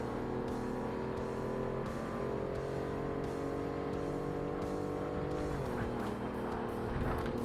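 A race car in Forza Motorsport, professional low-power class, with a sustained engine drone that holds steady and shifts pitch as the car accelerates. Faint tire noise sits underneath, and another car passes close by.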